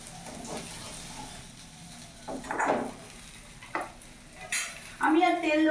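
Rohu fish frying in hot oil in a home kitchen pan, a soft continuous sizzle with stirring and scraping bursts, a clatter near the end, no talk.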